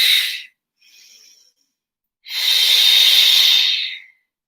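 A person breathes during a gentle stretching routine: a short exhale, a faint soft inhale, then a long, loud, airy exhale lasting nearly two seconds, close and alone.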